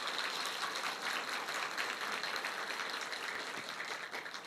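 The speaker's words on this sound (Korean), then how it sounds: "큰 박수로 하나님께 영광을 돌립시다." Steady applause from a church congregation during a Sunday morning service, dense and sustained for the whole stretch with no voices over it.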